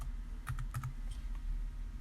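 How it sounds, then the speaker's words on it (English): Keystrokes on an Acer Aspire One laptop keyboard while a name is entered during a Windows 7 setup, a short burst of about five or six quick clicks that stand out over a steady low hum. "We're gonna type owner."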